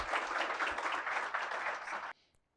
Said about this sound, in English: So let's have a huge round of applause